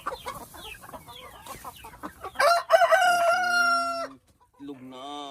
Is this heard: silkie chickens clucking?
yes